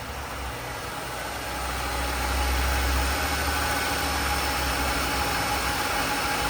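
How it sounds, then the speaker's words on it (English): A 2003 Mercury Marauder V8 engine idles steadily and smoothly, a low continuous rumble close by with no voices. "That is one smooth running V8."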